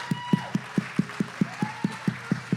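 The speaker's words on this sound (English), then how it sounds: "Let's give a round of applause" Audience at a live brewery show clapping in slow, even beats, roughly four per second, modest in volume against a background hum and faint room voices.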